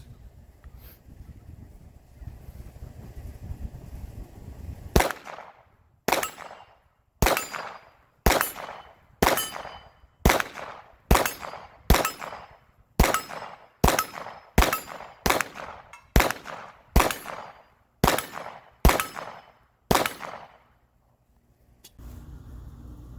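Glock 19 pistol rounds strike steel targets at a range, about fifteen sharp ringing clangs in a steady, evenly spaced string, each decaying quickly, heard with distant background rumble and no talking.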